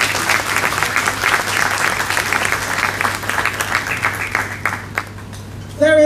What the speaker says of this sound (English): Let us recognize staff members with a round of applause.